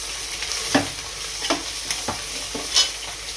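Chopped coriander frying in a pressure cooker for chicken biryani, a steady low sizzle broken by a few sharp scraping stirs at regular intervals, close and fairly quiet.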